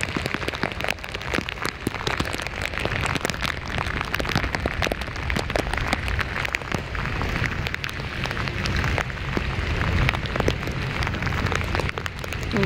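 Steady rain pours down, a dense continuous patter and hiss that stays loud and even throughout with no voices.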